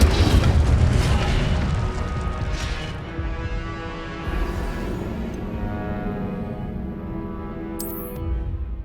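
A loud, roaring burst of the Incendio fire spell in Hogwarts Legacy opens the sound and then settles into a sustained fiery rumble that slowly fades, with a brief bright sparkle near the end.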